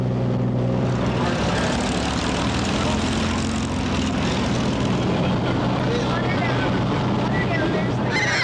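A Piper J3 Cub propeller airplane engine drones loud and steady at an airshow, filling the whole stretch with a constant buzzing roar and faint speech underneath.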